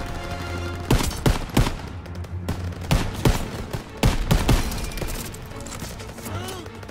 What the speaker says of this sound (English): Who the shit is shooting at me now?